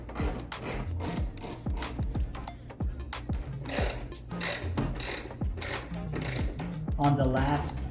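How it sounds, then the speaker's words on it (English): A ratchet with a 10 mm socket clicks in quick repeated bursts while loosening headlight nuts on a 1994 Chevrolet Corvette C4, close up and fairly steady, with brief speech in the background. "I'll be using 10 millimeters and a ratchet"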